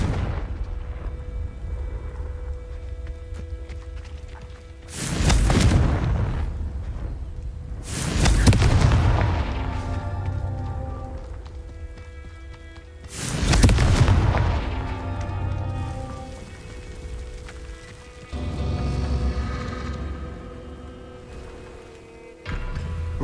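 Four heavy blasts of the Confringo explosive spell boom out in Hogwarts Legacy, each a loud, broad burst with a short rumbling tail, spaced a few seconds apart over a steady low game ambience.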